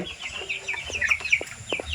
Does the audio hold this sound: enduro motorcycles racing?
no